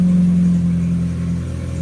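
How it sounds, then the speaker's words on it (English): A 2007 Chevrolet Cobalt engine runs after starting, droning loud and steady up close with a rough, humming exhaust that has a leak, fading slightly toward the end. "Then we're going to start the car."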